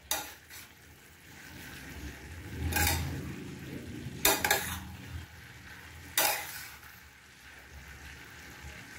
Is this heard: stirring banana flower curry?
yes